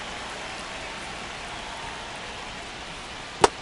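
Steady rain falling on a baseball stadium in MLB The Show 25, a continuous even hiss throughout with a single sharp click near the end.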